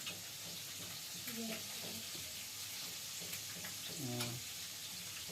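Cumin, ginger-garlic and onion fry in hot oil with a soft, continuous sizzle. A utensil clinks against the pan now and then, and faint voices murmur in the background.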